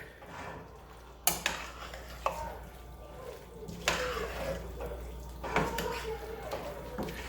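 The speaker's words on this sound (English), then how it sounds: "now we're going to stir in two. We're going to heat this up" Spoon stirring a casserole heating in a pot, scraping and clinking against the metal in a few sharp knocks over a low hum, with soft sizzling between strokes.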